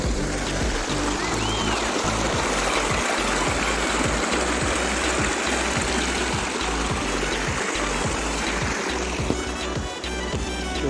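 A small waterfall pours into a drain, giving a continuous loud rush and splash of water close by, with a low steady rumble underneath throughout.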